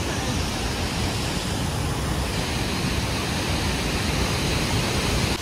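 Waterfall beside a bridge in cool breezy mountain air on the Machel route, a dense continuous rushing roar, steady and fairly loud with no break.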